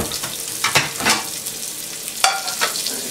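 A fish fillet fries skin side down in a hot pan, giving a close, steady sizzle with sharp bursts of spatter and scraping.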